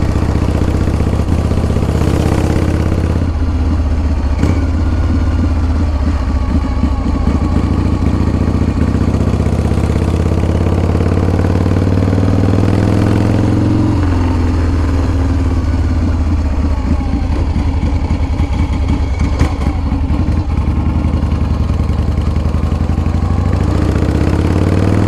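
A 2016 custom motorcycle with a carbureted S&S Shovelhead engine idles close by in a loud, steady, uneven lope, with mechanical clatter and brief blips of throttle, no voices.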